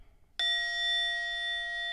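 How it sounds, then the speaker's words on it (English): A meditation ending bell from the Insight Timer app strikes once, sharp and clear, then rings on with a steady, shimmering sustained tone after a short silence. "And then you can choose your ending bell."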